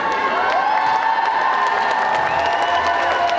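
Audience at a cosplay contest stage event applauding a cosplayer, a steady dense wash of clapping with cheers and whoops mixed in, loud and sustained throughout without a break.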